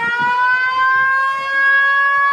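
A civil defense air raid siren sounds a loud, sustained tone with a slight rise in pitch, holding steady at close range through the whole stretch.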